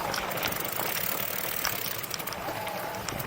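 A dually truck labours uphill in first gear on a rough road, its engine a steady low rumble mixed with rattles and clatter from the bumpy ground.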